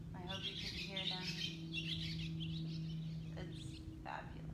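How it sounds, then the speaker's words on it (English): Birds sing and chirp outdoors in a park during an outdoor yoga session, with faint scattered calls over a steady low hum. "Bring it to the birds singing here."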